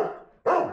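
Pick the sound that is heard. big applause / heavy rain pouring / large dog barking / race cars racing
large dog barking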